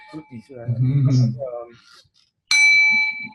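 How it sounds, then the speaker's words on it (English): A voice speaks first. After a short silence, a smartphone app's mindfulness bell strikes once, clear and bright, and its pure tone rings on steadily to the end. "you can get these mindfulness bells as apps for your smartphone, and they'll just kind of ring a bell that brings you back"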